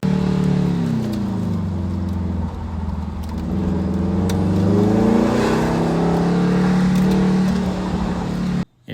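A Factory Five 818 car drives hard through an autocross course, its engine loud and close, revs climbing and dropping repeatedly through turns and a slalom, then cutting off abruptly near the end.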